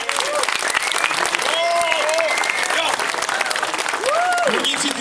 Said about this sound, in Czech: Takže dáme potlesk.